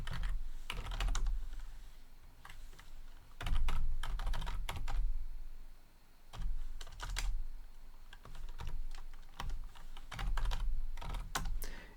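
Bursts of keystrokes on a computer keyboard while code is entered, quick clusters of clicks separated by short pauses, close and clear against a quiet room with no voices.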